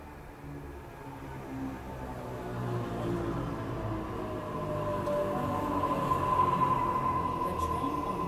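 A Sydney suburban train at Wahroonga station, heard as a steady low rumble and hum that slowly builds in loudness over the whole stretch, with a faint high whine near the end.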